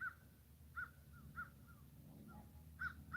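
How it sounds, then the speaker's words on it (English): Crows caw repeatedly outdoors, about five distinct harsh calls spaced under a second apart, moderately distant over a low steady background rumble. "Listening to the birds"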